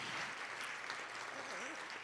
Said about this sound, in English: a big round of applause for her vision